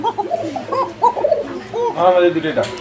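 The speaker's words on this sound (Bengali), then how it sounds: "যারা ডাকটা শুনছেন, এই ডাকটা শোনার পরেই ইনশাল্লাহ আপনারা কবুতরটা চিনতে পারবেন" A Koka fancy pigeon coos up close in a series of soft, rolling, throaty notes that swell toward the end.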